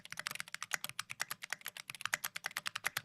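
Rapid, evenly spaced clicks of fingers typing on a computer keyboard into a text editor, picked up close by a microphone aimed down at the keys, crisp and steady with no talking.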